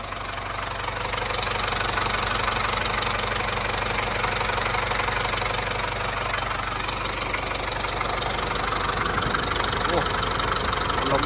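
The diesel engine of a CAT 920 wheel loader idles steadily with a low, continuous rumble and faint knocking texture, running unchanged throughout at close range.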